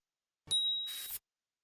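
A notification bell sound effect rings out alone: one bright, clear ding that holds briefly and then cuts off abruptly.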